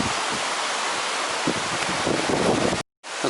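The River Artro flowing past a cottage in the countryside: a steady broadband rush of moving water, with gusts of wind buffeting the microphone, then a brief dropout to silence near the end.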